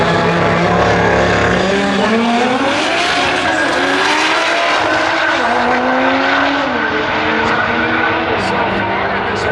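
A Nissan GT-R launches down a drag strip during TX2K25 qualifying, its engine roaring loud and close with a rising, shifting pitch that runs continuously through the whole stretch.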